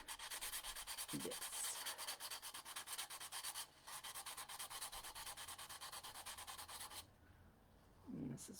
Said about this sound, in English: Just take and smooth them out with your sander